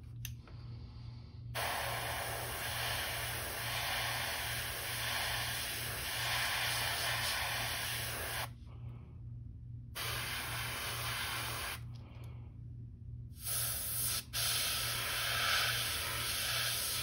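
Steady, close airbrush hiss spraying paint onto a custom crankbait fishing lure, running in long bursts broken by two brief pauses and restarts, with no talk over it.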